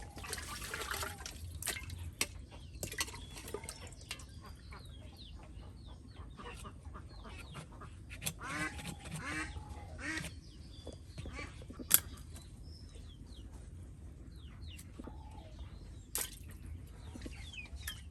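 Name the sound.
water splashing while washing fish pieces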